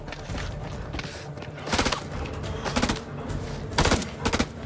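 Several loud, separate bursts of gunfire crack out in the horror game House of Ashes, three or four sharp volleys spaced about a second apart over a steady rumbling background.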